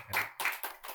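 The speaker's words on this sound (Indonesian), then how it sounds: "Tepuk tangan dulu" Several people clapping together in a podcast studio, three or four quick bursts of claps close to the microphone, alone with no talk.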